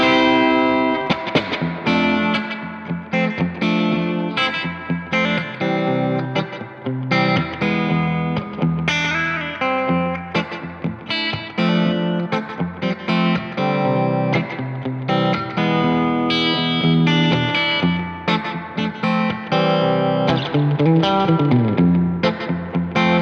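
Electric guitar through a Seymour Duncan Dark Sun delay and reverb pedal into two amps, one distorted, plays continuously, a thick, echoing tone smeared with delay and reverb, loud and sustained throughout.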